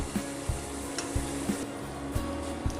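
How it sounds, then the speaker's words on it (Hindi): Masala for kadhai paneer roasting in a kadhai gives a steady sizzle, broken by rhythmic spoon scrapes and knocks about every half second, close up with no talk. "और अच्छे से मसाले को भुनने देते हैं।"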